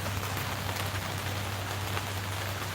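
Rain falling outdoors in bad winter weather, a steady, even hiss of drops with a constant low hum underneath.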